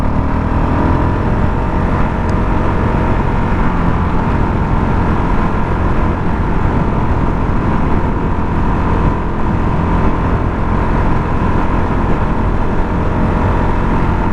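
A Honda CRF450 dirt bike riding over hard-packed gravel gives a steady, continuous engine drone with road rumble that stays loud and even throughout, with no talk.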